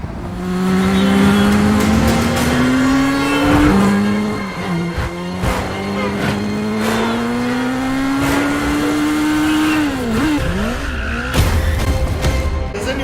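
A loud car engine revs and roars at high speed during a chase scene driving counterclockwise around the Arc de Triomphe in Paris, pitch rising and falling with gear changes, with brief tire squeals and sharp bursts.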